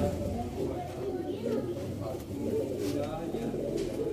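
Sialkoti Ali-wala pigeons coo steadily at close range, a low continuous murmur running beneath a voice throughout.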